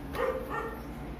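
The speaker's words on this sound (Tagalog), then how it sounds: "Yan, ang ingay ng aso, Starscream." A dog gives two short barks close by over a steady low background, with no talk.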